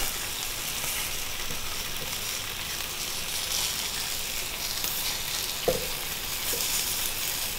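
Asparagus sizzling in a frying pan as it is rolled by hand, a steady close hiss of frying with a few faint clicks and no talking.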